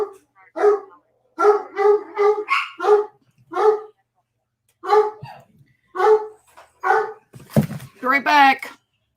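Dogs bark in a rapid run of repeated sharp barks, loud and close, pausing briefly before another burst, while a person talks nearby.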